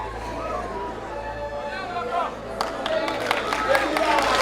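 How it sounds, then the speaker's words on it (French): An audience at a youth film awards ceremony claps and cheers for a best actor winner, applause swelling from scattered clapping into a loud crowd burst under a talking voice and crowd chatter. "Un applaudissement très très fort."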